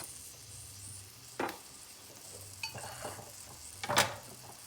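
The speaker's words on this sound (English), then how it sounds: "I'm gonna go in with some chopped onions" Chopped onions drop into melted butter in a pan for a roux, giving a soft steady sizzle with a few sharp clinks and scrapes of a utensil against the pan.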